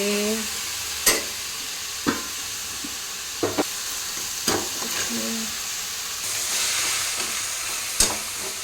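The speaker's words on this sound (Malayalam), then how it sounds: "ഇങ്ങനെ മിക്സ് ആക്കുവാണ്. ഒന്ന് വാട്ടുകയാണ് ഞണ്ടിന" Marinated crab being stirred and sautéed in a pan for crab curry, a steady sizzle broken by several sharp scrapes and knocks of the spoon against the pan at irregular intervals, with no talk.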